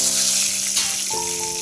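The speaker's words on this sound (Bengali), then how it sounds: "এই তেলের মধ্যে আমি পটলগুলো দিয়ে দিলাম।" Pieces of pointed gourd (potol) fry in oil already seasoned with turmeric and salt, a steady close, loud hiss of sizzling that runs through the whole short stretch with no pause.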